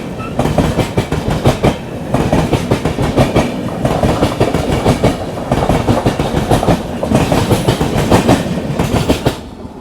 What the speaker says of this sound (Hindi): ये थी कर्नाटका एक्सप्रेस